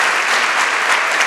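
Steady crowd clapping for a closing journalism panel, a short even burst of dense applause from many hands in a hall.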